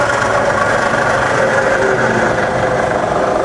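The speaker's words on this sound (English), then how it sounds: "Firing up on the head, and you can hear that's running about 1500 RPM" A fully rebuilt Bridgeport milling machine head running at about 1500 RPM gives off a loud, steady, smooth mechanical hum that holds an even level with no talk.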